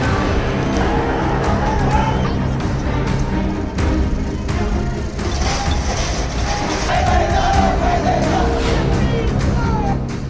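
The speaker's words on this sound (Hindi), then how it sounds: "नेपाल की सड़कों पर सिर्फ भीड़ नहीं है, ये गुस्से की लहर है।" A large, angry protest crowd fills the streets of Nepal, a dense continuous roar of many voices with scattered shouts rising and falling at steady loudness throughout.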